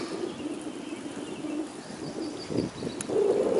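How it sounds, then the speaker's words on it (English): Birds calling by a quiet lake shore after kayaking, a few soft cooing calls rising over steady low outdoor ambience, moderately near, with one louder call near the end. "You can hear the ravens."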